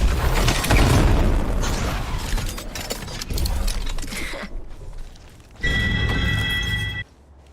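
A grenade blast in Apex Legends amid loud game combat, with booming, crashing noise throughout, a brief dip, then a bright ringing burst near the end.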